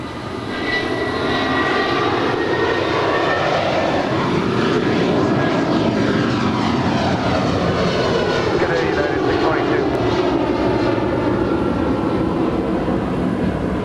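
A United Airlines jet airliner at Los Angeles airport roars loud and close, its pitch sweeping as it passes, then settles into a sustained, rumbling wash of engine noise.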